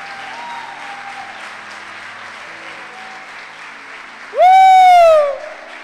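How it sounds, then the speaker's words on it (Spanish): A church congregation applauds steadily in the background, a soft continuous wash of clapping, joined near the end by a loud sweeping whistle-like tone. "Muy flaco ese aplauso."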